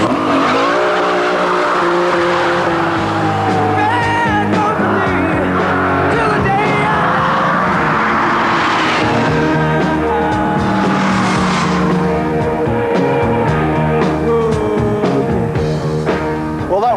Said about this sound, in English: What I am going to do is demonstrate just how fast the Diablo accelerates